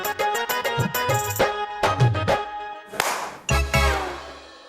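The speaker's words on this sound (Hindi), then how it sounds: "अब ताली भी बजा रहे हो?" Sharp hand claps, several in a quick burst and then a few single louder smacks, as someone swats at a fly, close and dry with no speech over them.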